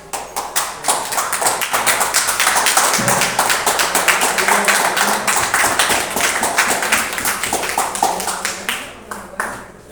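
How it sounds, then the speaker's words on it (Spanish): An audience applauds a speaker at a talk on the Passion of Jesus, a dense, steady burst of clapping that holds for several seconds and thins out toward the end. "Quiero dar un aplauso a nuestro ponente hoy, Nelson Enrique."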